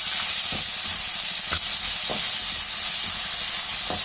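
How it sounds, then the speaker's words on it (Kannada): Chopped tomatoes hit a hot pan of oil for a Karnataka-style chutney, giving a loud, continuous steamy sizzle and hiss with a few soft stirring knocks underneath. "ಈಗ ಟೊಮೊಟೊ ಸೇರಿಸ್ಕೊಳ್ಳೋಣ."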